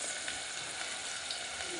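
Onions frying in oil for a tamarind-leaf prawn dish, giving a steady, dense sizzle that holds evenly close by throughout, with no talk over it.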